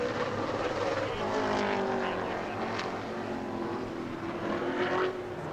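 A super late model race car at New Smyrna Speedway on a qualifying lap, heard as a continuous, loud engine drone that holds steady throughout while a commentator talks over it.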